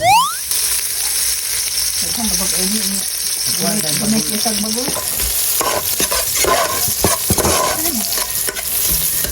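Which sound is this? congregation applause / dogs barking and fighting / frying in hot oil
frying in hot oil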